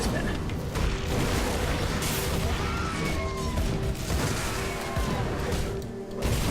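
Dense, loud explosions and crashing combat effects in the action RPG Grim Dawn: Forgotten Gods form a constant, saturated roar of overlapping booms and impacts with no break, and a voice talks over them at times.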